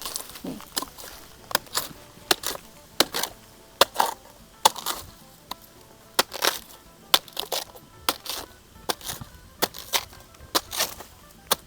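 Bamboo stalks break and fall with a run of sharp, woody cracks and splintering snaps, spaced irregularly every second or so at moderate distance, between quieter pauses.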